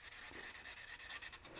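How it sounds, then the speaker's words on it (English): Fine sandpaper rubs over small wooden pieces of a business card holder in quick, quiet back-and-forth strokes, soft and close with no voices. "take some fine sandpaper, knock off the sharp edges and detail them up a little bit."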